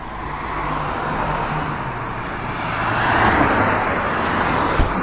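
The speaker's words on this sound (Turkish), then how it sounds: "Mehmet Ustam yavaş araba gelir" A car creeps slowly along a street, its engine a steady low rumble with broadband road noise that swells slightly around the midpoint; no talk.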